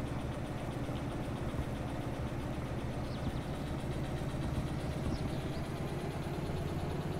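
A locomotive engine working under throttle in the train game Derail Valley gives a steady, fairly quiet rumbling drone that holds evenly throughout, with no clear changes.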